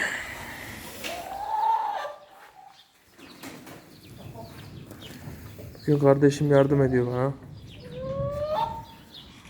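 Hens, about eighteen of them, cluck and stir inside a farm coop during egg collection, with a louder burst of calls midway, while people talk throughout.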